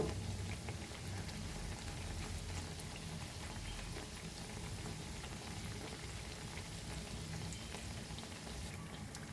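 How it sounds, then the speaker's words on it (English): Motichoor laddu batter fries crisp in hot oil, making a soft, continuous, rain-like crackle and bubbling that stays faint and steady with no speech. "And we have to fry this crispy."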